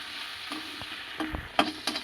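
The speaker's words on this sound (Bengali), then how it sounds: "এবার একটু হালকা ভেজে নেব।" Grated ginger frying in a pan for a fish head curry gives a soft steady sizzle, with a few clinks and scrapes of stirring on top.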